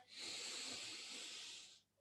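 One long, deep inhale during a breathing meditation: a steady, close, airy rush of breath that holds for nearly two seconds and then stops, with no talking.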